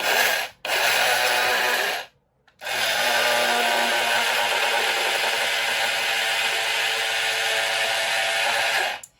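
Dukkah seeds ground in a mortar and pestle, giving a loud, continuous gritty scraping with two brief pauses between long stretches of grinding.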